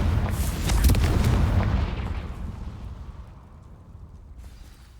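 A Confringo fire spell blast in Hogwarts Legacy, a loud booming explosion that bursts at once, roars for about two seconds, then fades into a long, low rumbling decay.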